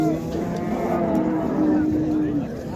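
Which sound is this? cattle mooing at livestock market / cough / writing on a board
cattle mooing at livestock market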